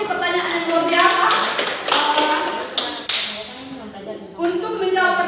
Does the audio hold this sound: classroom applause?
yes